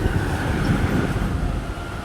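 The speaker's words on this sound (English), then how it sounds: "Train always comes every fucking time." A train passes nearby on the way to Anza Borrego, giving off a loud, steady rumbling roar with a rolling low-end rattle throughout.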